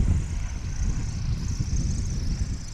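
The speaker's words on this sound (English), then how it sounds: "your quintessential backcountry aircraft," A Maule backcountry light aircraft's propeller engine drones steadily, loud and continuous with a broad rumbling roar, at a STOL competition in Hartford, Wisconsin.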